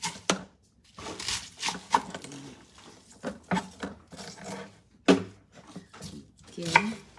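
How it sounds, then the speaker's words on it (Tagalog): A knife chops food on a board in a home kitchen, cooking a Visayan dish, with a quick series of irregular sharp knocks and scraping taps at close range. "hiwain lang natin ng konti kay masyadong mahaba lang"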